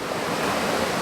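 Rough, rapid flowing water rushing steadily, a dense broadband hiss like surf or a small torrent, close and loud for a brief moment.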